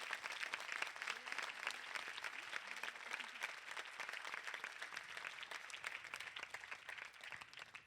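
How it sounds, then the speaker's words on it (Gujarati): Audience applause at a cultural program, honoring the volunteers: dense, sustained clapping from many hands that holds steady for the whole stretch without a break. "એક તાળી પાડીએ"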